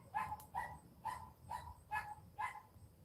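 A dog barks repeatedly outdoors at night, about six evenly spaced single barks spread over three seconds, moderately distant and fairly faint above low background rumble.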